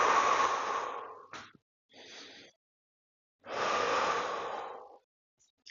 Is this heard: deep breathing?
yes